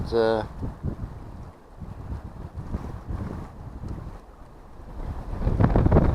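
Wind buffets the microphone beside a tidal river during a sea-fishing outing, a loud, rough, continuous rumble that swells toward the end, heard alone without talk.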